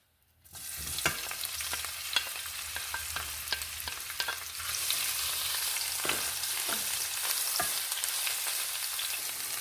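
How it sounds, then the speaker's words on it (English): Seasoning frying in olive oil in a pot for cabbage, a loud close sizzle that starts suddenly and holds steady with occasional spoon taps and stirring scrapes, no voice. "Getting some olive oil in the pot to get my seasoning fried up."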